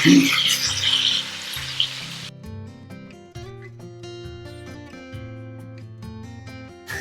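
Prawns frying in hot oil, a steady close sizzle that is loud at first and then settles into a quieter continuous crackle, with no talking.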